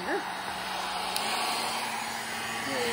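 Hair dryer on its higher setting blows a steady, loud broadband whoosh at close range, with a faint voice briefly audible at the start.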